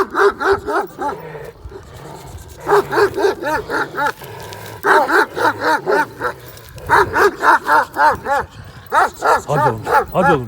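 A twelve-year-old Kangal dog barks in rapid, loud bursts with growling between them, running as it sounds off at close range; a voice urges it on at intervals.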